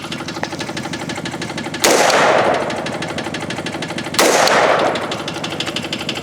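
Two loud bursts of armor-piercing incendiary rifle rounds are fired at an SUV engine a couple of seconds apart, each a sharp blast with a ringing decay, over a constant mechanical hum.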